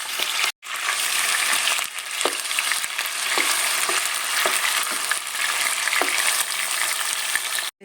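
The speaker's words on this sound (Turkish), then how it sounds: "Şimdi tavuğumuzu da tenceremize alıyoruz." Steady, loud sizzling of chicken frying in hot oil in a pot, with a few clinks and stirring scrapes over the constant crackle.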